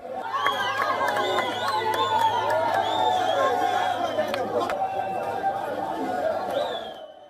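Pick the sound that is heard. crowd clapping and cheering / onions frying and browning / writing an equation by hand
crowd clapping and cheering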